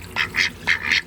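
A duck quacks close by, four quick nasal quacks in two pairs, loud and clear against a quiet outdoor background.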